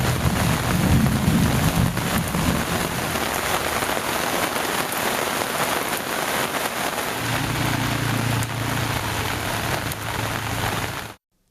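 Heavy rain pours steadily across Sirkazhi and nearby areas of Mayiladuthurai district in Tamil Nadu, a dense, continuous hiss with low thunder rumbling at the start and again near the end before cutting off abruptly.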